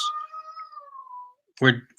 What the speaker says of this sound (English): now the cat wants to chime in